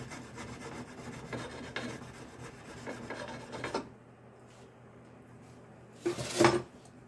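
A file rasps burrs off a metal screw-in choke in steady back-and-forth strokes, close and continuous for several seconds before stopping, then one short harsh scrape follows after a pause.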